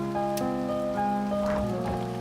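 Rain falling in the pixel-art video game A Bird Story, a steady patter under a bright musical score with sustained tones, close and continuous throughout.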